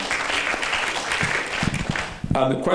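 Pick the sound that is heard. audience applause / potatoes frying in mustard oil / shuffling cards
audience applause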